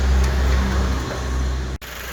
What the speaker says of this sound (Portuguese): ando aqui com o Logan da esposa do Fernando, o motor já funcionando, já andamos com ele.